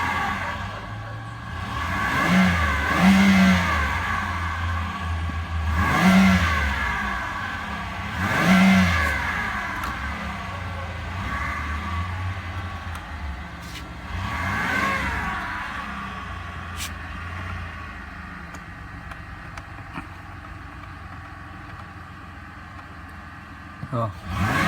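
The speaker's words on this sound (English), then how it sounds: "Well, we'll rev it from in here." A 2009 Chevy Impala with a 3.5L V6 revved from the driver's seat, three or four distinct throttle blips rising and falling, then settling to a steady idle, with people talking nearby.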